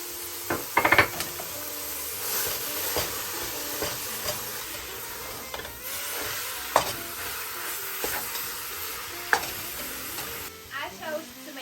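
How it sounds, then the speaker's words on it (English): Seasoned ground beef with black pepper, seasoned salt, onion and garlic powder browning for chili in a pot, a steady sizzle broken by repeated scraping and stirring strokes and a few utensil clanks against the metal. "We're gonna start by browning our ground beef."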